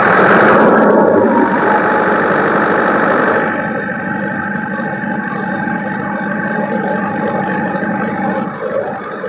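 A car engine roars up loudly, then settles after a few seconds into a steady, rumbling idle close by.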